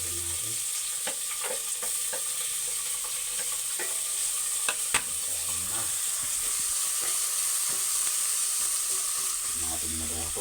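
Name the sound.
onion and ginger sizzling in a frying pan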